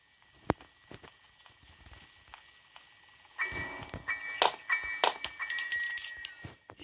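A few light knocks and footsteps, then a video-game doorbell in Granny Chapter Two rings repeatedly in bright, tonal bursts that grow louder and denser toward the end.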